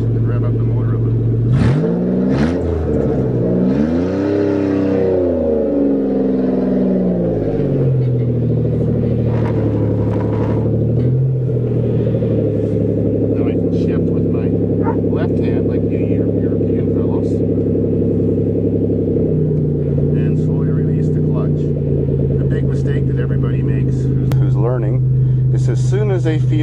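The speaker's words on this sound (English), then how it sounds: "So now I slowly release the clutch and rev up the motor a little." A manual Toyota's engine revs as the clutch is eased out on a farm, a low steady rumble that swells and dips with the throttle while someone talks over it throughout.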